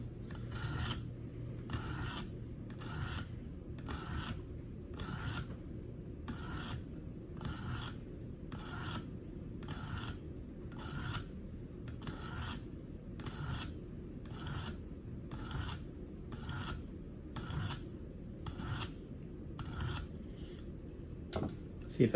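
A Gerber Paralite knife blade is drawn across a stone on a KME sharpener in steady, evenly spaced strokes, about twenty rasping passes, close and alone over a low hum.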